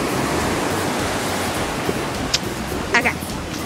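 Ocean waves on a windy beach give a steady, broad roar of surf and wind that fills the whole clip, with a few small clicks and bumps near the end and no speech.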